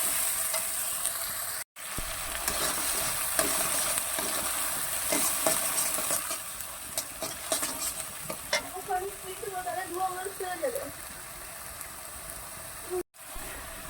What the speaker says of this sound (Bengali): মশলা একবারে দিয়ে দিয়েছি, তারপর একটু কষিয়ে নেব, ভালো করে কষিয়ে নেব যাতে কাঁচা গন্ধটা চলে যায়।